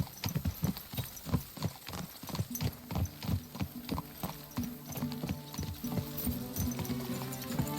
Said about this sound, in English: This is your first time riding a horse